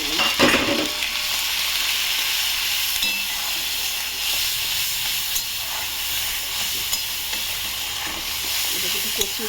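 Chilli, turmeric and cumin masala sautéed with fried ginger and a splash of water in a pan sizzles and hisses steadily, with a loud spatter at the start and occasional scraping stirs throughout.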